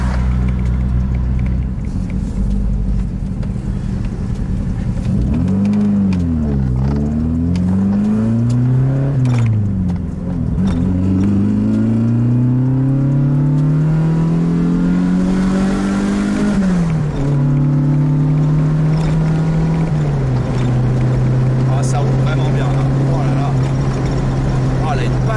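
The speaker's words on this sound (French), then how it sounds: "Par contre les carbus, super. Je suis à 130 sans forcer." A car fitted with tuned Weber carburetors runs at about 130 km/h on the road, with a loud, steady interior engine drone that rises and falls through gear changes and acceleration. Someone talks over the engine.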